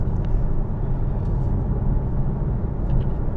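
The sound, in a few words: 2026 Alfa Romeo Tonale driving on the M4 motorway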